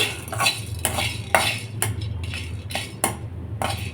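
A utensil scrapes and clinks against a pan as coriander powder is stirred while dry-roasting, in repeated close strokes about every half second, with no talk over it.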